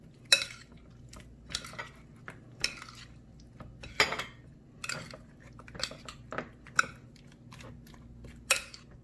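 Thin slices about an inch in size tossed together in a bowl for a kids' Indian recipe, giving a series of light, irregular clinks and soft scrapes of utensil against dish, close and unhurried, with no talking.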